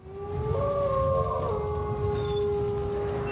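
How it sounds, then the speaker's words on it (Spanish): A long wavering wolf howl opens an old song, a sustained rising then steady tone carried over a low musical bed, loud and continuous throughout. "Y da el aullido del lobo."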